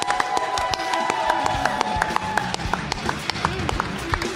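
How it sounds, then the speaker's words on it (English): Studio audience applauding at the close of a live broadcast, steady dense clapping that runs the whole time, with sharp individual claps popping out over the crowd and a host's voice faintly underneath. "Again, all of you, thank you. Keep applauding."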